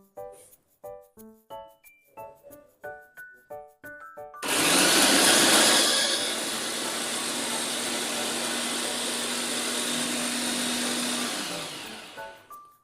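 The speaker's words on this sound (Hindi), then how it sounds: "अब हम इसको अच्छी तरह से ब्लेंड कर लेंगे।" Blender grinding roasted raw green mango for chutney, starting abruptly after a stretch of sparse clicks and tones, then a loud steady whirring roar that settles slightly and runs several seconds before stopping, no talk.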